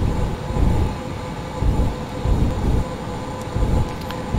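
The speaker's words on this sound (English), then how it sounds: "That noise you can hear is me thrusters, plus me ailerons and that, but mainly me thrusters." Spacecraft thrusters firing in the Orbiter 2016 flight simulator game: a steady, heavy rumbling roar with rhythmic swells roughly every second, continuous and with no talking.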